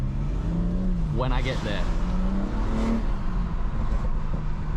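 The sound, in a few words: BMW M140i engine and exhaust while driving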